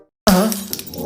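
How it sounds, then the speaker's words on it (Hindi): A pair of eyeglasses breaks with a sudden sharp crack and brief shattering clatter after a moment of silence, close and loud, followed by fading rustle. "पापा जी का चश्मा, ये तो टूट गया।"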